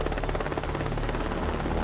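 A helicopter in a video game set in Iraq in 2003 gives off a steady, loud rotor thrum and engine roar that holds throughout without a break.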